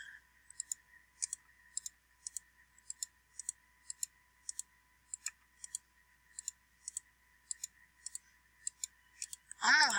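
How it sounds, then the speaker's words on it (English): Computer mouse clicks tapping out a fast, steady rhythm of sharp, close ticks over a faint hum, ending in a brief burst of louder noise. "I don't know how well you can hear my clicking"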